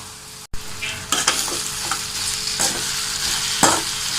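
Crumbled idli being stirred in a hot pan for idli upma, a steady sizzle with repeated spatula scrapes and tosses at close range, no talking.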